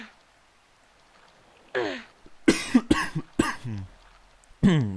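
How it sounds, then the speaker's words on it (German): A man coughs several times in quick succession, close and fairly loud, with short pauses between bursts, after a quiet stretch at the start. "gerade muss ich erstmal husten"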